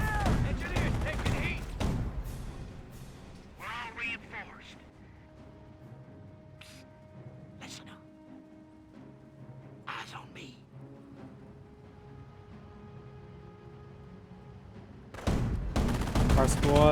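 Company of Heroes 1 battle with a squad caught on open ground: faint, scattered gunshots crack sparsely over a quiet, tonal background, with louder stretches at the start and end.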